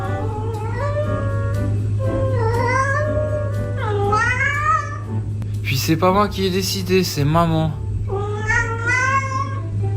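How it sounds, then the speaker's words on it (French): A house cat meows repeatedly to be let outside at night, several drawn-out rising and falling cries close to the mic, while a person talks to it between them. "Non mais ça sert à rien de miauler"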